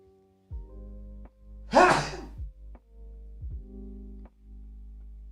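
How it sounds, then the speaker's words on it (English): A single sharp sneeze bursts out close to the microphone, preceded by a quick inhaled gasp and followed by a few soft breaths in a quiet room with a faint hum. "I gotta sneeze."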